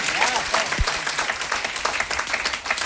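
An audience claps steadily, a dense and continuous patter of applause filling a hall at a DXN marketing seminar, with no voices heard over it.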